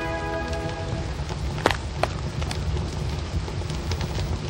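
Rain falls steadily in an animated episode, a continuous dense hiss of drops on surfaces with a low rumble beneath, and a few sharper drips standing out.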